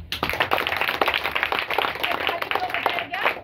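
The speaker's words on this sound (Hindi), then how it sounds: "ताली बजा देंगे" A church congregation claps during a sermon on new life in Jesus Christ, a lively burst of hand claps with distinct sharp strikes over a crowd wash, with a voice talking over it.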